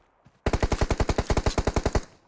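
A rapid burst of automatic gunfire in the PUBG Mobile battle royale game: about fifteen loud, evenly spaced shots fired close by, with no talking over them.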